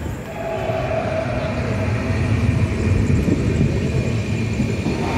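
Radhikapur Express at Nabadwip Dham station, a steady loud rumble of rolling train wagons building slightly in intensity, with a faint high tone running through it and no talking.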